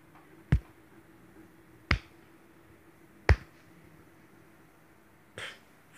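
Slow hand clapping: three sharp, isolated claps spaced about 1.4 seconds apart, followed by a softer fourth, each crisp and close against near silence.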